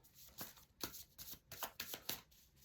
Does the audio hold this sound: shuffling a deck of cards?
yes